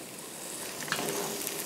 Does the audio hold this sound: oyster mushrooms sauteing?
yes